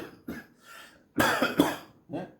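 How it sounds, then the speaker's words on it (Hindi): A short fit of harsh coughing from blowing dust at a Holi celebration, several close coughs in a row with a throat-clearing sound, no talking. "इतनी धूल उड़ रही है, उस पे तो कुछ ध्यान दो, हमें खांसी हो रही है"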